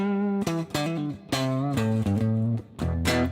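Acoustic guitar played through an amp with drive pushed up, chords breaking up into a gritty overdriven tone, strummed in separate bursts with short gaps between them, loud and close with no talking.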